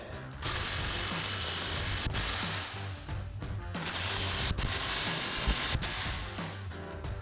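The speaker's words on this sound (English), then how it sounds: "we can go ahead and fully tighten down our other clamps along the way" A ratchet tightens the clamps on a Magnaflow Street Series single exhaust system fitted to a Ford F-250 truck. It gives loud, close bursts of rapid clicking, split by short pauses as the handle resets.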